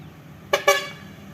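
Two short honks from an arriving dirt truck's horn, fairly close, one right after the other, over a low steady rumble.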